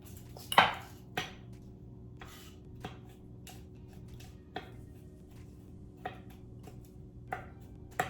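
Garlic being minced with a knife on a cutting board, several sharp separate knocks spread irregularly over a quiet background, one louder strike near the start, for a butter chicken recipe.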